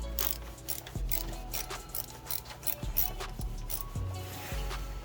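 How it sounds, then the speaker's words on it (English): Small T25 Torx screws being backed out from around the intercooler on a BMW, giving faint metallic ticking and ratcheting clicks at intervals over a steady low background hum, with no talking. "you need to take out the screws so you can pull down the intercooler"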